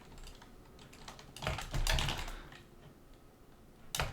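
Quiet computer keyboard typing of code, with a few scattered key taps building to a quick flurry of clicks and a final burst, close and without talking.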